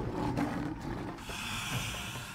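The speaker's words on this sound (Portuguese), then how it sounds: "Escuta só os rosnados, os rugidos." Lions growl and roar at close range in the African night, a deep rumbling roar with no voices over it.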